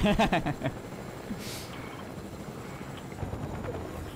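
In a Fortnite match, a helicopter's steady rotor drone holds throughout, with brief voices and game sounds at the start.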